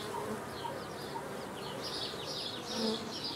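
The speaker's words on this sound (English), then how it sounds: "Occasionally I'll see some bees going in there." Honey bees buzz at a hive entrance with an upper entrance hole in the box, a soft steady hum with individual bees whining past nearby, faint chicken-like clucks in the background.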